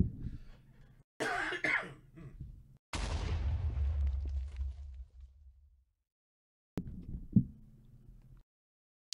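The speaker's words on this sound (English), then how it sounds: "pardon me, I'm gonna have to cough" A person coughing during a livestream, a few harsh, bursty coughs and throat clearing in separate fits with pauses of silence between them.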